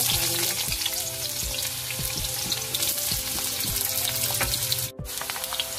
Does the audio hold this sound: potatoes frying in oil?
yes